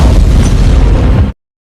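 A loud, close explosion in an Afghan war film, a dense roaring blast that fills the sound for over a second and then cuts off abruptly into silence.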